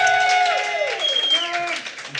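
Live audience applause with mixed cheering as a vote for Wilbur the pig, a dense steady wash of clapping and voices that thins toward the end.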